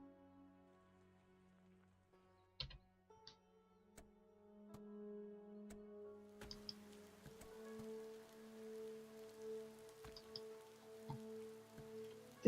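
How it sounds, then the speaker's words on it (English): Rain falling in a video game, a soft steady patter with scattered drop ticks over a sustained in-game musical tone, quiet and continuous. "Oh, it's raining and we're in the mine."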